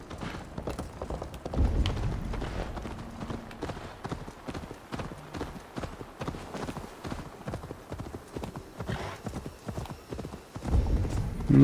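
Horse hooves clip-clop steadily at a walking pace in Assassin's Creed Valhalla, with dense rhythmic thuds over game ambience and occasional heavier impacts near the end.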